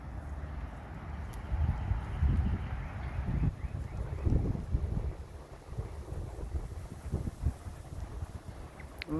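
Chilly outdoor wind buffets the microphone with a continuous low rumble and uneven gusts that rise and fall throughout.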